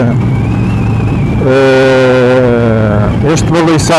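A Moto Guzzi V7 Stone Centenario E5 motorcycle engine running loud and close, idling with a steady throb, then revving up into a rising, strained roar before dropping back.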